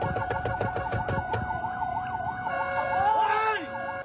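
Fire truck sirens wail and warble in Bacolod City, with repeated horn blasts at the start as the truck honks at a motorcycle that won't move aside; the loud siren sweeps continue throughout.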